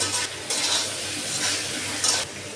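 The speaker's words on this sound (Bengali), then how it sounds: "এখন আমি চাল কুমড়াটা সুন্দর করে কষিয়ে নেব।" Ash gourd pieces sautéing with spices in oil, giving a continuous close sizzle with a few surges as the pan is stirred.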